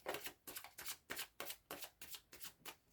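Tarot cards being shuffled in quick bursts, about nine riffling swishes in a steady rhythm, close and clear with no talking.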